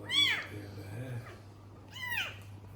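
A cat that had fallen behind a house cries out with two loud, drawn-out, plaintive meows, with a quieter short mew between them, close by and without talk.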